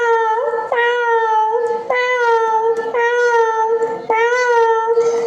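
A schoolchild on stage at a school annual day imitates a cat meowing, voicing about five drawn-out, wavering mews in a row, loud and close, with no other talk.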